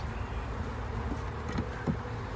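Honeybees buzz steadily around a Hive Hotel beehive, a continuous close droning hum with individual bees whizzing past now and then.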